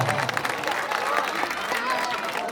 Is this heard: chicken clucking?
no